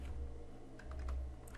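Typing on a computer keyboard while working in Adobe InDesign, a short run of soft, close key taps over a low steady hum.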